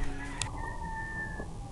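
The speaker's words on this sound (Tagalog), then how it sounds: "Ang ingin ng mga manok nila." Backyard chickens, with a rooster giving a short crow and hens clucking, heard fairly close over a steady background hum and with no one talking.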